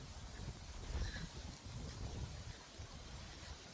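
Strong wind blowing outdoors, a continuous low rumbling roar of gusts buffeting the microphone, steady and fairly faint, with no voices.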